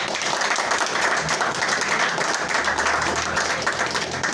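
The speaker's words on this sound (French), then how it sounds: "Donc on peut applaudir monsieur." Audience at a school graduation ceremony applauds steadily, a dense, even wash of clapping that lasts throughout without pause.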